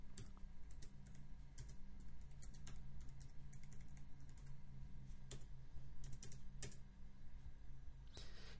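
Typing on a computer keyboard, a quiet run of rapid, uneven key clicks close by with short pauses, no voices.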